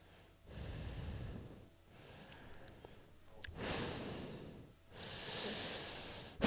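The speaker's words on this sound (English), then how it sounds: "Yeah, you can totally hear me breathing." Close breathing picked up by a microphone, with several loud, hissy inhales and exhales in slow rhythm and no talking.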